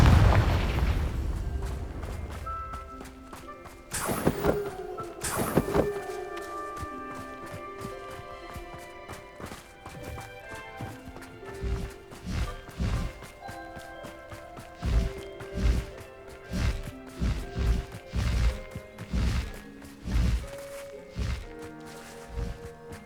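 Bombarda and Confringo spells blasting in Hogwarts Legacy: two heavy booming explosions near the start, then a busy run of repeated thuds and impacts over swelling game music.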